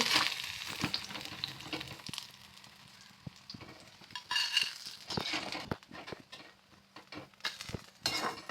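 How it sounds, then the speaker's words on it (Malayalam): Urad dal frying in hot oil for a coconut-cake chutney, a steady close sizzle with spoon stirs and scraping clinks against the pan, pulsing louder and softer throughout, with no talk. "ഉഴുന്ന് പരിപ്പിട്ട് കൊടുക്കുന്നുണ്ട്"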